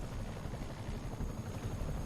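A helicopter in Spider-Man, heard as a steady low rotor drone with a broad wash of noise, faint and continuous, with no voices.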